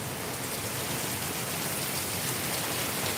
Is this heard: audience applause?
no